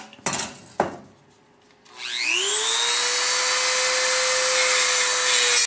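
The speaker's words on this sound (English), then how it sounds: "I might have to cut those brackets off. I'll do that with my Dremel tool here." A few sharp knocks, then a Dremel rotary tool spins up to a steady high whine and keeps running while cutting off metal brackets in a fireplace project, close and loud with no talking.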